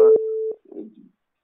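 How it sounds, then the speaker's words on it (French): A steady single-pitch telephone tone sounds loudly and is cut off after about half a second, followed by a brief faint murmur. "J'entends une sonnerie."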